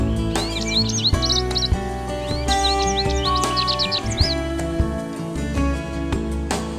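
Goldfinches chirp at a backyard feeder, bright twittering bursts rising over a steady background of music and ambient tones, with no talking.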